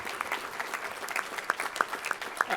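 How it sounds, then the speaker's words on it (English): Applause at a Jewish Caucus advocacy dinner, a fairly thin, modest patter of clapping with a few distinct sharp claps standing out, moderately quiet in a room. "let's give him a big round of applause"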